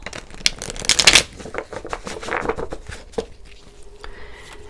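A deck of tarot cards is shuffled close by during a reading, giving a loud fluttering riffle burst followed by softer intermittent slides and taps of the cards, with no talking.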